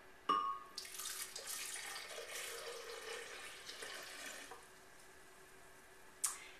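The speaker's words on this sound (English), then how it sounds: "So I'm going to put in about 2 cups or 16 ounces of water." About two cups of water pour steadily into a blender for a berry smoothie for several seconds, a soft splashing gush that tapers off, followed by a small clink.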